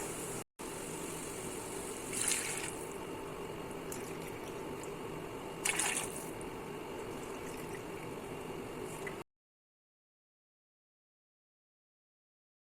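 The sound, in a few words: pouring water into the cooking pot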